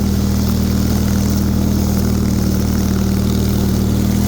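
A Bolens HT23 garden tractor with a snow blower attachment runs in deep, heavy, melting snow, its engine droning loud and steady with a strong low hum and no change in pitch throughout.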